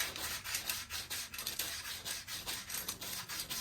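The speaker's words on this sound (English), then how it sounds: "this is very light 500 grit sandpaper" Light hand sanding of tubing with fine 500 grit sandpaper, a soft steady rasping rub in repeated back-and-forth strokes, close and alone with no voices.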